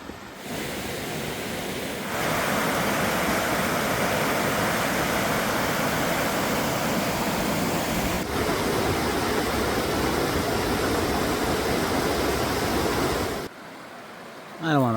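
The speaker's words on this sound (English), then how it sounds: "It's been like 4 miles walking alongside this river, and we keep seeing like little waterfalls, rapids" A river running through woods along the Appalachian Trail in Maine, with small waterfalls and rapids, gives a steady, loud broadband rush of water that holds for most of the stretch, with no one talking.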